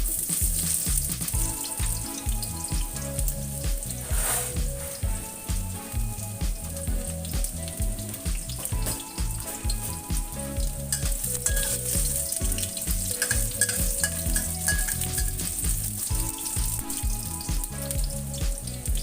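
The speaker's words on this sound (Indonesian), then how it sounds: "Goreng terlebih dulu bawang merahnya." Shallots fry in a wok with oil, giving a loud, continuous sizzle and crackle that runs steadily throughout with no talking.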